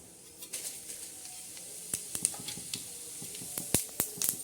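Cumin, mustard and fennel seeds fry in hot oil for a tempering, giving faint, scattered crackles and sharp pops that grow busier over a low background hiss.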